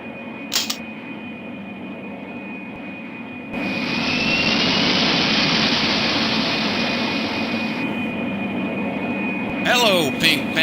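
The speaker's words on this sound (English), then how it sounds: "The aircraft will be moving shortly. We're next on the runway to take off." Jet airliner engines roar as the plane moves to take off in the 1995 game Pink Panther: Passport to Peril. A loud, steady roar begins partway through, holds, then eases near the end, with a few brief clicks around it.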